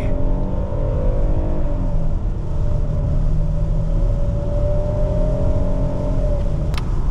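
A 2025 Hyundai Palisade SUV accelerating up onto the highway, its steady engine drone and road roar loud and constant from inside the cabin, with no talk.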